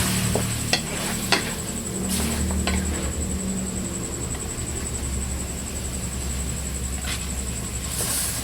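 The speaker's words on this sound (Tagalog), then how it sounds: "Naisalang ko na po yung karne. Haluin po natin." Meat for chicken curry sizzles steadily in a pot while a utensil stirs it, with a few sharp metallic scrapes and clinks against the pot over a constant frying hiss.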